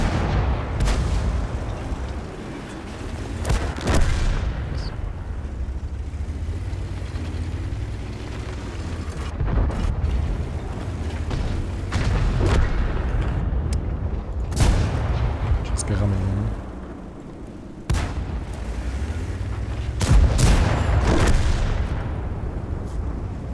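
World of Tanks battle with tank gunfire and explosions: repeated heavy booms and cannon shots at intervals over a rumbling engine bed, with someone talking throughout.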